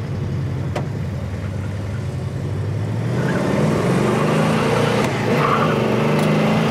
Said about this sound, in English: we're test driving and checking out this 455 1970 Pontiac